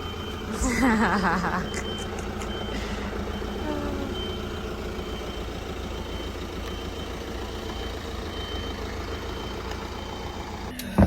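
Reverse warning beeps from a truck sound in a steady repeating rhythm over an idling engine, continuous and fairly close, with brief voices at the start.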